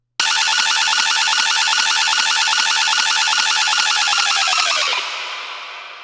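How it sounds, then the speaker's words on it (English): A bright, rapidly pulsing synthetic dubstep tone holds steady for several seconds, then a frequency shifter bends it downward as it fades out. "I have used a frequency shifter, but that only gets like introduced here at the end to make it pitch down"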